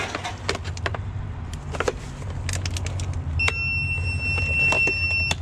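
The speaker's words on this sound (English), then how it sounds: "Little battery" A small battery beeps two thin high electronic tones while rummaging in a dumpster, against background clatter and low rumble, with sharp clicks and knocks scattered throughout.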